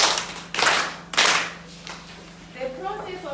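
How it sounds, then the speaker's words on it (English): A classroom of students claps hands in two short bursts of applause, fairly close and lively, before a teacher's voice resumes speaking. "Clap hands for it."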